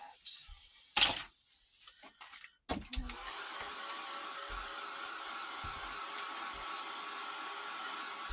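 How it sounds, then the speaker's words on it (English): A handheld heat tool blowing steadily to dry distress ink on scrapbook paper, a constant close whir after a few clicks and handling knocks at the start. "you definitely want to dry in between each application of the ink that you put on"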